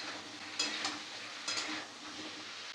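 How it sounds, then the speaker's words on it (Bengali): Vegetables with tomatoes and whole green chillies being stirred in a hot pan, a steady close sizzle with a couple of sharp scrapes of the spoon against the metal. "দিয়ে টমেটোর সাথে সব সবজিগুলো একটু নাড়াচাড়া করে নেব।"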